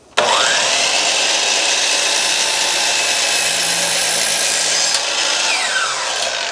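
Power saw cutting steadily through a wooden board for a pet memorial cross, a loud continuous whining buzz that starts abruptly and holds nearly unchanged for about six seconds, with a slight dip near the end.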